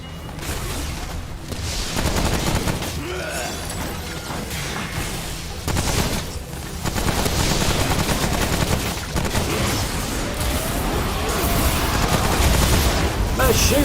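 Heavy gunfire in the video game Remnant: From the Ashes, sustained volleys of shots with booming impacts, loud and continuous with a few short gaps, with some talk mixed in.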